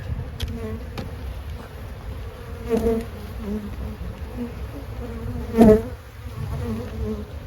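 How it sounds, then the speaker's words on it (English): Honey bees drone steadily in an opened, boosted hive full of bees, a continuous close buzz with a couple of louder swells as individual bees pass near, without speech. "you can see just about every frame is now full of bees."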